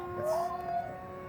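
A Timber 1.5 RC model plane on floats flies over water, its propeller giving a brief rising tonal whine for under a second against background noise.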